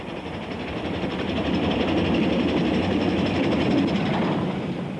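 Steam locomotive 46229 Duchess of Hamilton runs on a mainline charter, a continuous broad rushing rumble of engine and rolling train that swells slightly and stays steady, with no voices.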